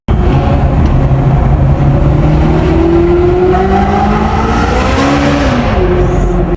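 A Ferrari F430 F1 engine roars loud and close throughout, revving with rising and falling pitch as it accelerates through gears.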